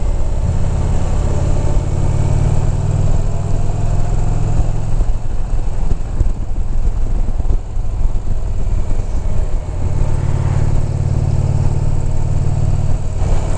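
An Indian Challenger motorcycle engine drones loud and close under way, a deep steady rumble mixed with wind rush that eases briefly midway before swelling back.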